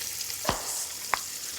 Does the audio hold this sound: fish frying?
yes